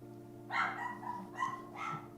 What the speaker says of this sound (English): I'm sure you can hear my dog being upset